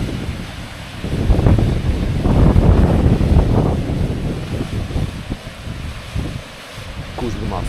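Waterfall on the Kuzliman river crashing down from a height, a loud broadband roar mixed with gusting wind buffeting the microphone, swelling and easing over several seconds.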